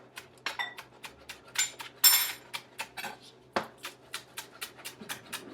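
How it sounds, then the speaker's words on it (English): A knife chops through rolled leafy greens and their crunchy stems on a cutting board for an Asian-inspired pasta salad, giving a close, fairly brisk run of sharp taps that sometimes clink. "So I'm rolling it kind of in on itself, like so, and then chopping it horizontally across."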